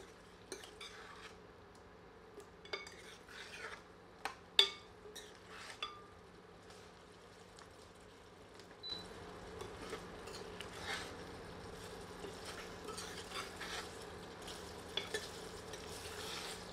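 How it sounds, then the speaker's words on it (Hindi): Mutton and walnut paste masala fry in a pan, with a soft steady sizzle under sharp metal spoon scrapes and clinks that come in scattered bursts as the mixture is stirred. "इसे मांस में मिलाकर अच्छी तरह भूनते हैं।"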